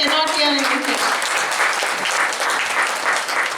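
Audience applause fills a hall at the RICE 2023 inaugural ceremony as an honoree is introduced, a steady dense patter of many hands that starts under a brief spoken phrase and then continues alone.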